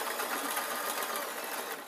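Sewing machine stitching across a hem and two layers of fabric on a soft toy, a steady, loud, dense whirring buzz that runs continuously and close with no talk.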